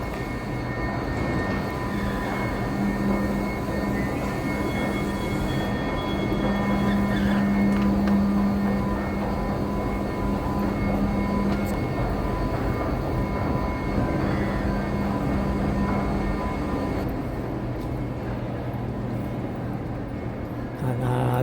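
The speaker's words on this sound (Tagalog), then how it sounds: "Nandito na tayo sa loob. Hintay tayo ng tren." Steady low rumble and drone inside an underground metro station while waiting for a train in Canada, with a sustained mechanical hum and distant rail noise, no talking.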